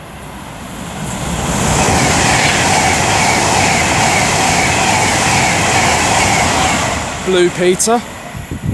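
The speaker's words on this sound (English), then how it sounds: "Here he is for Avanti West Coast, working 1 Sierra 82 from London Euston to Glasgow Central" An Avanti West Coast class 390 Pendolino, London Euston to Glasgow Central, rushes through Lichfield Trent Valley station as a loud sustained roar that swells and then fades, with someone speaking briefly near the end.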